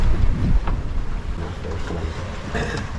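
Wind roars across a sailboat far offshore in heavy weather, buffeting the microphone in gusts with the rush of sea and hull noise beneath and a few creaks and knocks aboard.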